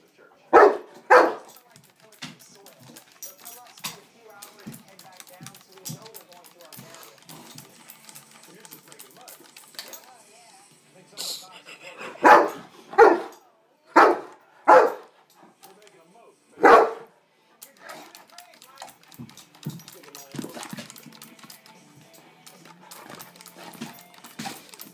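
A St. Bernard barks in loud, sharp bursts, a couple at the start and then a quick run of several barks, with quieter rustling and low voices between.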